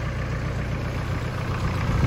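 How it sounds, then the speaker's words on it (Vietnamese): An Iseki GEAS 53 tractor, a 53 HP four-wheel-drive model with power steering, idles steadily with a low, even engine rumble close by, holding at a constant level throughout with no speech. "máy nổ cực kỳ là ngon"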